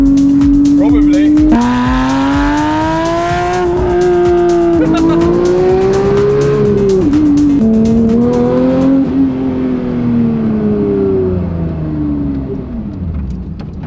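A wrecked Porsche GT3 sports car driving, its engine droning and rising and falling through the gears as it pulls along, loud and close, with talk over it at times.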